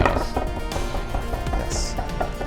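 A knife chops garlic, onion and carrot on a cutting board for a kosher Jewish stew, with rapid irregular loud thuds and clicks running through the whole stretch.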